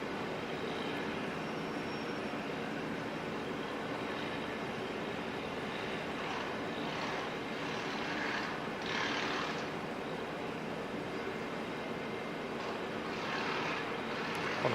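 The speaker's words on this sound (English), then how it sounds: "Qantas 119 today is being operated by an A330. Looks like we're getting the Qantas Pride livery coming in today." A Qantas Airbus A330 airliner in Pride livery comes in to land at Auckland Airport in crosswinds, a steady distant engine roar holding level throughout, with no voices over it.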